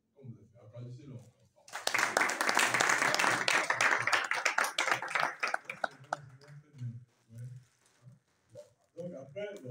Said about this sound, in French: applaudissez-le encore